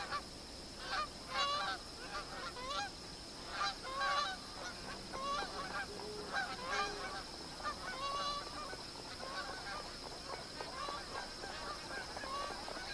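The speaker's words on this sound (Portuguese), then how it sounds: "Os gansos malhados abandonaram o capinzal ressequido da planície aluvial e começam a se juntar no Billabong." Magpie geese honk repeatedly at a billabong, a busy chorus of overlapping nasal calls from a gathering flock, steady throughout with no talk.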